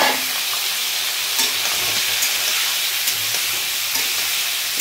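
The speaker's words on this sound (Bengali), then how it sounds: "আলুগুলো লাল করে ভেজে নেব" Pumpkin and potato pieces fry in a hot wok with a loud, steady hiss and sizzle, broken by occasional stirring scrapes.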